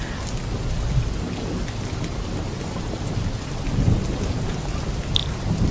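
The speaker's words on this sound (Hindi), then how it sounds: "बाहर इतनी बारिश हो रही है ना" Heavy rain pours steadily, with low rumbles of thunder rolling beneath; no voices are heard.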